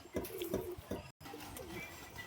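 Pigeons kept in a loft for sale coo in soft, repeated rolling calls, several phrases in a row, fairly close and calm.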